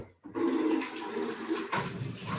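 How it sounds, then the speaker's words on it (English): Clean water gushes into a bucket in a ceramics glazing workspace, a close, steady rushing pour that starts abruptly and keeps running. "I'm going to get clean water in this bucket"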